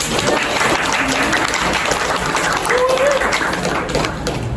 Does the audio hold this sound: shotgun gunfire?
no